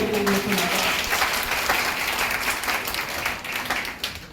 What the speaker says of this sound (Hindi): एक बार तालियों से सूचित कर दिए